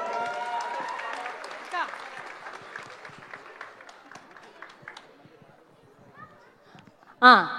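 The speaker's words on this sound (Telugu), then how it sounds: "ఒకసారి గట్టిగా చప్పట్లు కొట్టరా అందరు ఒకసారి" An audience claps together at a gathering, a dense patter of hands under a talking and singing voice, swelling briefly near the start and bursting loud and close right at the end.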